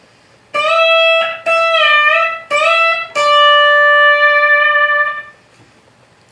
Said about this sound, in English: But with you get that beautiful articulation that's associated with slide guitar.